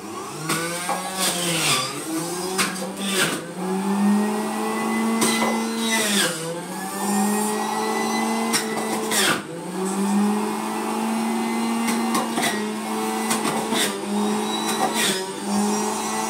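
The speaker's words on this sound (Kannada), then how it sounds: "ನೆಕ್ಸ್ಟ್ ನೋಡಿ ಇದರಲ್ಲಿ ಆಪಲ್ ಹಂಗೆ ಹಾಕ್ತಾ ಇದೀನಿ ನೋಡಿ." An electric juicer grinds through an apple, its motor whining steadily up close with repeated pitch dips and recoveries as pieces are pushed in, loud and continuous throughout.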